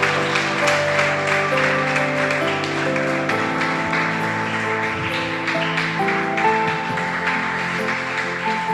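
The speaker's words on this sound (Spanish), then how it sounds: "Denle un fuerte aplauso al Rey de Reyes." Church audience clapping loudly for several seconds over sustained keyboard chords from the worship music, with faint voices underneath.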